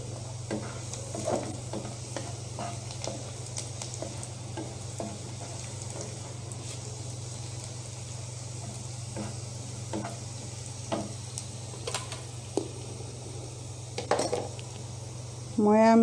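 Cloves and cardamom sizzling in a frying pan, a low steady frying hiss with scattered light clinks and stirring taps of a utensil against the pan, fairly quiet throughout.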